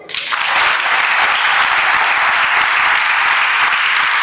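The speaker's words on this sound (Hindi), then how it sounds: "तो ताली बजा दो।" Audience applause in a crowd at a gathering, dense steady clapping that swells in within the first half second and holds loud and continuous to the end, with no talking over it.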